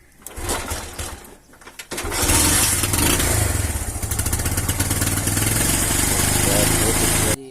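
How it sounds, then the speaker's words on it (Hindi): Motorcycle engine started in a village setting and then idling loudly and steadily, with brief talk and shuffling before it catches. "चलो जी बाइक स्टार्ट करते हैं।"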